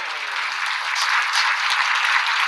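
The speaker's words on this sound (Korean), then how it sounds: "박수." A church congregation bursts into dense, steady applause during a sermon, loud and continuous for the whole stretch with no voices over it.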